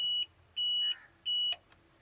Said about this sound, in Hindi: security alarm